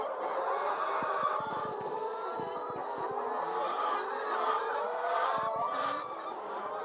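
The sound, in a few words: chickens clucking and rooster crowing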